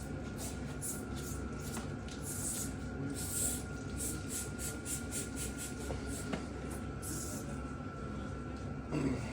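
Water sprays onto the seal of a jalousie window on a VW bus, a steady close hiss of pressurized spray with brief bursts and no talking.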